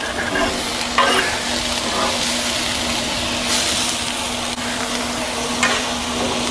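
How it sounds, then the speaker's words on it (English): Onions and peppers saute in butter on a Blackstone griddle, a steady close sizzle broken by a few scraping spatula stirs over a faint constant hum. "We'll get these sauteed up and then we'll pull them to the side and go to the next steps."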